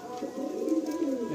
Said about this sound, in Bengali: খুব রেয়ার পায়রা, গিরিবাজ মেছুয়া